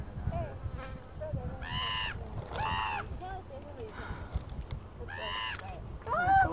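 Crows caw in several harsh, repeated bursts while squabbling with a hawk over food, heard outdoors at a moderate distance over wind and background noise, with people talking nearby.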